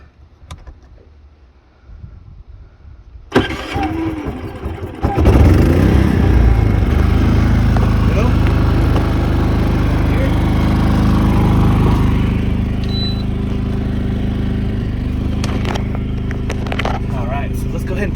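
A Harbor Freight 3500 W generator starts up and then runs with a loud, steady engine drone, close by, after some quiet handling and rustling beforehand.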